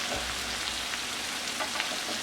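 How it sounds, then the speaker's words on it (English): Chicken pieces frying in butter in a pan for Indian butter chicken, a steady close hiss and crackle of sizzling throughout with no speech. "I love the sizzling sound of the butter in this pan."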